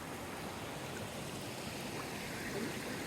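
Stream water rushing at a river crossing on a solo hike in the White Mountains, a steady even wash of flowing water with no breaks, fairly soft and constant, with no talk.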